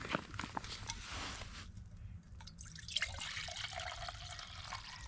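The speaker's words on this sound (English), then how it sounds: "so we'll put water in there" Water is poured into a cooking pot at a wild camp under a lightweight tarp, a quiet trickling and splashing that starts and stops, faint and close with soft background rustle.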